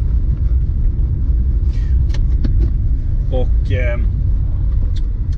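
A VW Polo Mk2's low road rumble runs throughout with scattered rattling, shaking clicks while driving, while a person speaks briefly over it.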